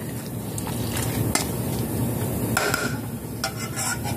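Crab salad being stirred together with Japanese mayo for sushi, a soft continuous mixing and scraping close by with a few light clinks of utensil against bowl.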